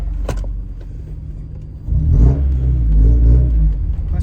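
A red Honda DC1 Integra idles with a low rumble, then the engine revs up sharply and stays loud and throaty as the car pulls away, heard from inside the cabin.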